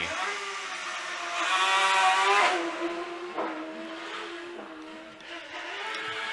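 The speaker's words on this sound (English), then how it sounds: "Similar car on the line, Martin Jones in the Force PT." A Force PT single-seater hill climb race car accelerates hard up the Shelsley Walsh course in 2019, its engine note rising and falling through shifts over about six seconds, moderately loud and heard at a distance.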